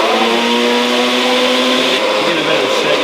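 A blender whirs loudly and steadily, pureeing arugula, mint, lemon juice and oil into a green mixture, its motor note shifting slightly partway through; close and dense, with no voices over it.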